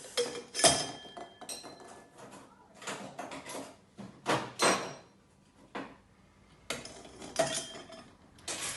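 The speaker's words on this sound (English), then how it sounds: "We're going to add some ice to the glass." Ice cubes dropped into a glass for a spritz make scattered clinks and clatters, close and fairly quiet, arriving in separate bursts with pauses between.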